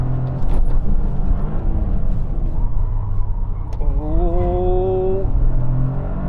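A Toyota GR Corolla Morizo edition on Cup 2 tyres sets a flying lap, its engine droning loudly and steadily inside the cabin, with a brief rising tonal whine partway through.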